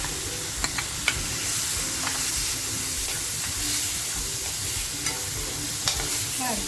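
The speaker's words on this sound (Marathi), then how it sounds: "आणि आता जो टॅमॅटो कापून घेतलाय तो टॅमॅटो टाकते" Chopped tomato goes into sizzling mutton vajdi masala over a full flame, bringing a loud, close, steady hissing sizzle with a few sharp clinks and stirring scrapes, with no talking.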